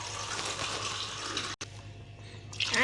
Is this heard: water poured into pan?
yes